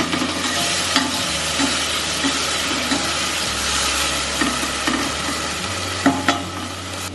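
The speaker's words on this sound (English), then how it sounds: "Add the from onions, and now we'll leave the tomatoes and onions to cook." Tomatoes and onions sizzle and fry steadily in a pan while being stirred during home vegan cooking in Uganda, a continuous close hiss with occasional clinks and scrapes and no talking.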